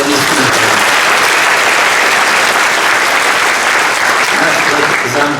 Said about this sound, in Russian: ну, аплодисменты